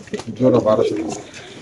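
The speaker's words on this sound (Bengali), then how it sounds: "এখানে আছে এক পেয়ার কবুতর ভাই" A pair of racer pigeons coo softly in low, rolling bursts, close by, with someone speaking over them throughout.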